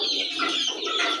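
Chickens cluck and chirp together while pecking at hydroponic maize fodder, a short, busy burst of overlapping bird calls heard close up with no speech.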